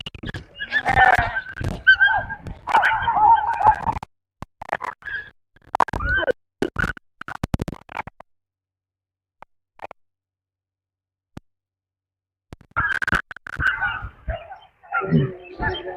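Dogs bark in repeated bursts with yips, close and fairly loud, broken by a long quiet gap before barking resumes, with people talking in between.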